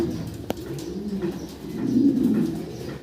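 Several king pigeons coo together, low rolling calls rising and falling in a steady throaty murmur, with one sharp click near the start; no voices.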